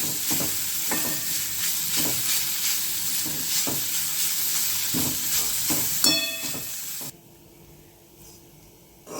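Ridge gourd peels sauté in hot oil with a steady loud sizzle and repeated scraping stirs, the frying hiss dropping away sharply near the end.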